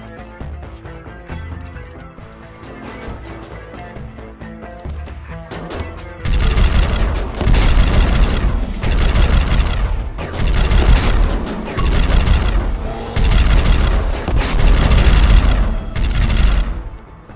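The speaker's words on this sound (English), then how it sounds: "We're already getting friendly fucking fire." RimWorld colonists firing on their own side in a friendly-fire mishap, heard as loud, dense bursts of rapid gunfire and booms that erupt partway through and keep coming in repeated volleys after a quieter musical stretch.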